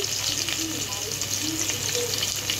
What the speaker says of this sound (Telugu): ఫ్రై అయిన తర్వాత సన్నగా కట్ చేసిన ఒక మీడియం సైజ్ ఉల్లిపాయ, 2 పచ్చిమిర్చిని అయితే తీసుకొని ఇది బ్రౌన్ కలర్లో వచ్చే వరకు ఫ్రై చేసుకుంటానండి